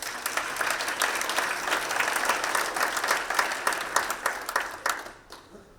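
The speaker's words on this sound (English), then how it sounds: "I think that's really worth a big applause for Uzbekistan." A conference audience at a session on patient access applauds, crisp individual claps blending into a moderate wash that keeps going, thins out, and stops near the end.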